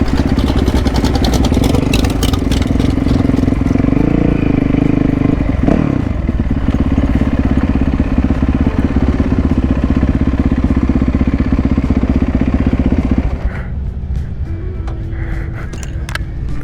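A low-slung rat rod car sitting about four inches off the ground idles loudly and steadily nearby with a rough, clattering engine note. Partway through, the rumble drops a little in level and carries on.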